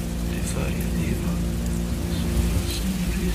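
Steady rain falls throughout a film scene, a dense even hiss with low rumble beneath, constant and fairly loud, with faint background sounds mixed in.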